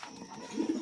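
Lahori and Sirazi pigeons give a brief, quiet cooing phrase, a soft low burble that swells near the end.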